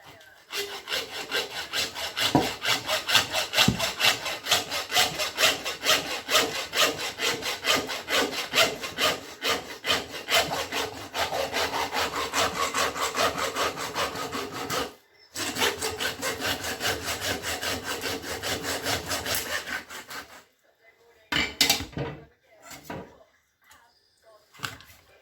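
A butcher's hand saw cuts through lamb, a steady rasping back-and-forth run for about twenty seconds with a brief pause midway, ending in a few short separate strokes.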